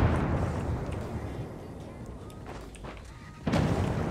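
Explosions rumble across a bombing zone in the Rules of Survival battle game, a low continuous roar of distant blasts that swells into a heavier burst near the end, fairly faint overall.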